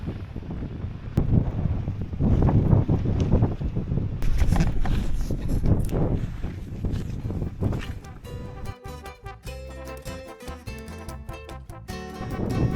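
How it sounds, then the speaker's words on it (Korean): Strong wind roars across the coast of Udo island, rumbling and buffeting the microphone loudly and steadily before easing into a choppier, fluttering gust toward the end. "어제보다 바람 더 많이 부는데."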